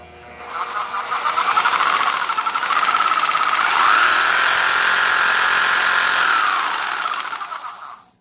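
A Milwaukee 6536-21 Super Sawzall, a counter-balanced reciprocating saw with a 2 horsepower motor, is switched on and run free with no workpiece. A loud, steady buzzing whine rises quickly, holds for about seven seconds, then spins down.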